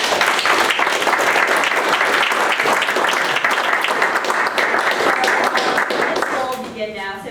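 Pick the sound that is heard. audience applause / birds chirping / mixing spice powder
audience applause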